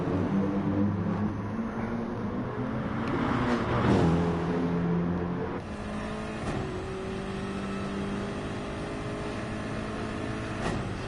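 Race cars of the Group 3 Super Championship driving down the Concord Straight at Mount Panorama, a steady loud engine drone with rising revs and harmonic whine, a car surging close near the middle before the tone settles lower.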